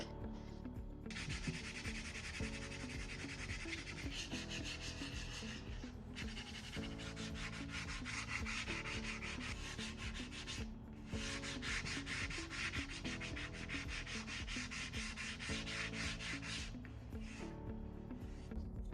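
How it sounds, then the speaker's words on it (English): Rhythmic rasping strokes of sandpaper on wood-filled spots of furniture, continuous back-and-forth rubbing with brief pauses, close and steady. "that was 9 minutes and 15 seconds of sanding the wood filled spots"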